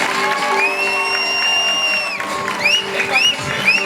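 A church congregation at a Christmas service claps and cheers for Jesus, a dense crowd of applause with whoops rising over sustained music tones.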